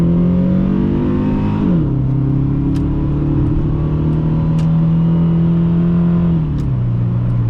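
A 2001 Dodge Intrepid with a 3.5L engine accelerates on a road test drive. The loud, steady engine drone climbs and then drops at gear shifts, heard from inside the car.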